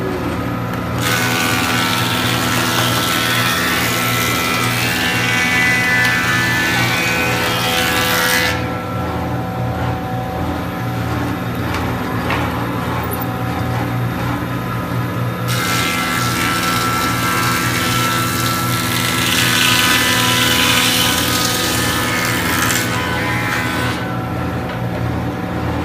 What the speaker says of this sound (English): we're going to plane both of our pieces